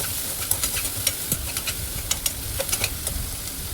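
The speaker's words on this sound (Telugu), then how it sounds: "2 మీడియం సైజ్ ఆనియన్స్ యాడ్ చేసుకొని ఒకసారి బాగా మిక్స్ చేసుకుందామండి." Garlic, green chilies and two medium onions fry in a pan and are stirred, giving a crackling sizzle broken by quick clinks and scrapes of a spoon, close up and moderately loud, with no talking.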